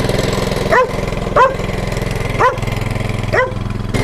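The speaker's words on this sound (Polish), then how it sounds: "Kosiarka przez parę minut niech sobie pochodzi i niech ten olej, tak jak mówiłem, zagrzeje się" A lawn mower engine runs steadily at close range, warming its oil, with a few short sharp dog barks breaking in at roughly one-second intervals.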